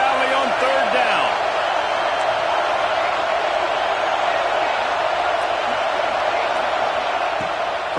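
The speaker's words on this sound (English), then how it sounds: "Here comes the noise from this big crowd in Happy Valley on 3rd down." A big college football stadium crowd in Happy Valley roars continuously on third down during Ohio State versus Penn State, making a loud, dense wash of noise throughout with a broadcast commentator's voice faintly underneath.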